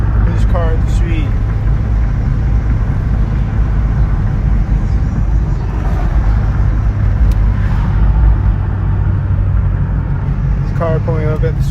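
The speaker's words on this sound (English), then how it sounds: "Car pulling up at the street." A car pulls up on a street with a loud, steady low engine rumble that fills the scene throughout, while people talk over it and faint chirping sounds in the background.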